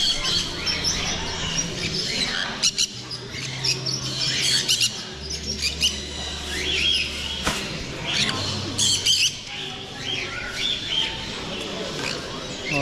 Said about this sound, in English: Sun conures.